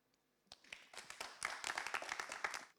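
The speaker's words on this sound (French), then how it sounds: "On applaudit Deus Black, mesdames et messieurs" Applause at a slam poetry show. It starts faintly with a few scattered claps, then builds quickly into a brisk, lively patter from a modest crowd.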